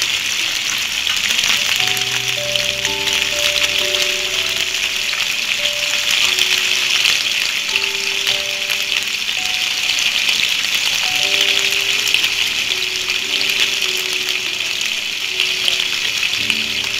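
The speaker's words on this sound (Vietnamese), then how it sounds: "bây giờ mình sẽ chiên sơ qua cá để cho cá bớt tách" Pieces of grass carp sizzle and spit as they fry in hot oil in a pan, a loud, continuous close-up crackle with faint background tones running underneath.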